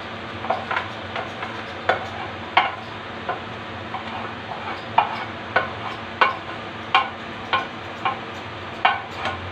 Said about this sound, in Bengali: এবার চাল অ্যাড করে নেব